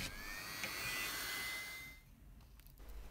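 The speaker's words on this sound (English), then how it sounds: "So now let's drill the hole for the mounting screw." A high-pitched power drill whines steadily for about two seconds drilling a screw hole in plastic, then cuts out, leaving quiet room noise with faint clicks.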